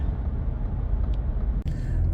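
A truck engine in sport mode, a steady low rumble with road noise heard from inside the cab, fairly loud and constant, with a brief dip and a light knock near the end.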